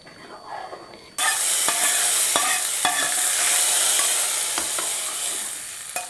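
Chicken bone kuruma bubbles and sizzles in a pan after curry leaves go in, a quiet start giving way at once to a loud, steady crackling boil with scattered pops and clinks.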